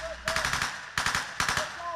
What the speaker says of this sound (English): The gunshot sounds are the same.